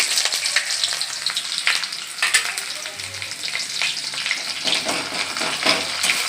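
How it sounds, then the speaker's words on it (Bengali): Onion frying in oil with bay leaf in a wok for a chicken kosha: a close, steady crackling sizzle runs unbroken throughout, with a few louder spits and stirring scrapes and no voices. "আমি কড়াইতে তেল দিয়ে দিয়েছি, তেজপাতা দিয়েছি, পেঁয়াজটা দিয়ে দিই।"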